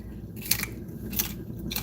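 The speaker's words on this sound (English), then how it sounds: "this is a pork crackling, and it's very crispy." Crispy pork crackling chewed close to the mic, three sharp crunchy bites spaced at a steady pace over a quiet background, with no talking.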